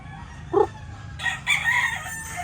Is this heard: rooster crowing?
yes